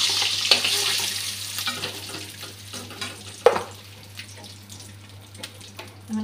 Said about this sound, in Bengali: ডিমগুলো ভেজে নিচ্ছি।